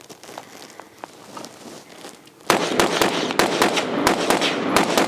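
Rifle shots from a Palmetto State Armory JAKL fired outdoors: after a quieter stretch of faint clicks, a run of sharp, loud reports starts midway and continues in uneven bursts, close to the listener, with no talking.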